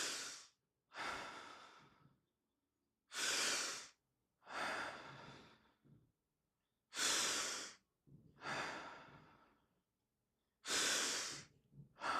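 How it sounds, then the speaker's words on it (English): Deep charge breaths drawn into the upper chest during a guided breathwork session, in close, rushing pairs: a sharp inhale followed by a longer exhale, repeated in a steady rhythm with silent pauses between them. "we're going to do 5 doubles, 5 regular charge breaths into your upper chest"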